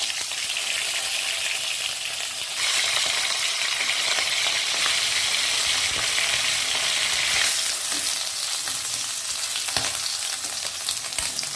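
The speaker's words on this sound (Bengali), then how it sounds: "দিয়ে দেব খানিকটা সর্ষের তেল, দিয়ে দেব লবণ হলুদ মাখিয়ে রাখা মাছের মুড়ো দিয়ে" Fish heads coated in salt and turmeric fry in mustard oil in a hot kadai, a loud, dense, continuous crackling sizzle close up with no voices.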